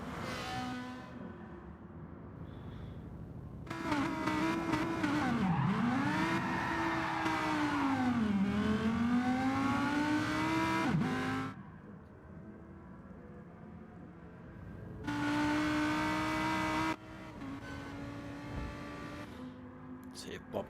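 Gr3 race cars lapping a wet Tokyo East Inner Loop in the Gran Turismo video game, engines rising and falling through revs and gear changes in two long bursts separated by a quieter stretch of steady car noise.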